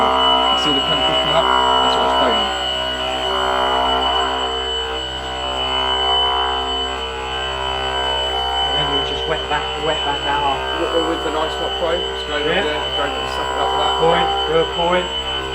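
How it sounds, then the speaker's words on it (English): An orbital floor scrubbing machine runs as a steady droning hum with a tonal whine, lifting chemical residue and foam from a floor, while a person talks over it. "I like these orbital machines."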